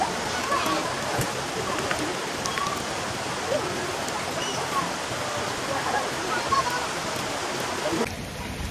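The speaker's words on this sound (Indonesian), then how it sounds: "Okay guys, hujan." Steady rain falling outdoors at a Malaysian street coffee and camping spot, a dense continuous hiss with scattered droplet ticks that holds for about eight seconds before easing.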